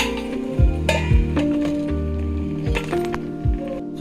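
Millet paya simmers in a covered pot over low heat, giving soft irregular bubbling pops and faint clinks under a steady low sizzle.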